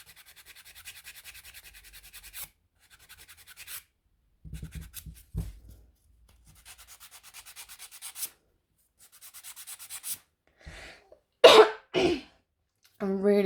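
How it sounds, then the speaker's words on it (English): Acrylic nails being filed with a nail file, a close, soft rasping scrape in short bursts with pauses, followed by coughing and throat clearing near the end. "now I'm going to give this one a go and file"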